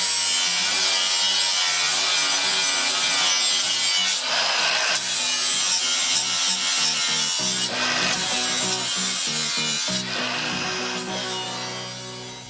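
A Lawn Boy mower blade being sharpened with a power grinder, a loud, continuous abrasive grinding that runs steadily throughout with brief dips in pitch as the blade shifts against the wheel.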